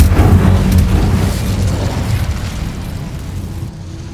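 An Incendio fire spell bursts in Hogwarts Legacy, a loud whooshing, rumbling blast that erupts at once and then slowly fades away.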